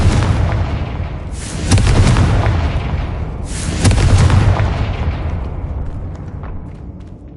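Confringo blasting spells explode in Hogwarts Legacy: two heavy, booming blasts a couple of seconds apart, each hitting hard and then rumbling away into a fading tail.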